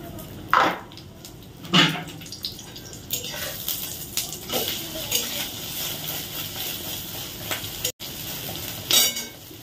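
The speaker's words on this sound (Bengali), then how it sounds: "ডিম ভাজাটা আগে করে নিলাম, কারণ ডিমটা যেহেতু অল্প তেলে করতে হবে" An egg fries in a little oil in a home kitchen, giving a steady sizzle broken by spatula scrapes and sharp metallic clinks of a pan, close and with no voices.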